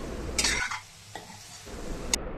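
A spoon stirs spicy egg curry (egg bhurji) in a pan, with a short scraping and clinking burst, a pause, and a faint second scrape, close and fairly clear with no talking.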